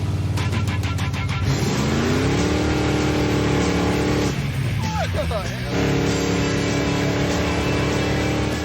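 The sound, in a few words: custom car engine revving during a ride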